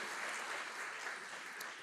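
A church congregation applauds steadily, a dense wash of clapping with no pauses, moderately distant.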